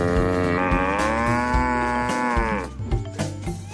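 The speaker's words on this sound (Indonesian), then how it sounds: "ternyata di sini ada seekor sapi" A toy cow gives one long, loud electronic moo lasting a few seconds, close by, followed by faint handling noises.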